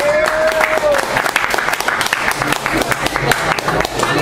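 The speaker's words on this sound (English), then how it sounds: "give yourselves a round of applause for coming to TNT Tuesday today" Audience applause at a stage show, loud and close with distinct individual claps in an uneven rhythm, a sharp whistle rising briefly at the start.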